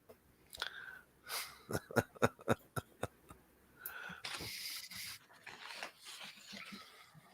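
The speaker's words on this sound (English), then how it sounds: "the dog's wandered off again, barking" Dog panting and letting out a run of sharp, quick bursts, fairly faint and set back in a room, followed by rougher, noisier panting.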